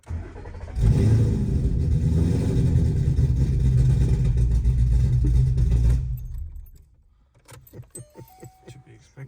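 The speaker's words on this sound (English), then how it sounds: "Now it sounds like a race car." A car engine with a Boss Track Key Procal 2 calibration and a lope tune cranks and roars to life, then idles loud and steady with a rough loping note for about six seconds before being shut off, leaving quiet clicks and faint tones.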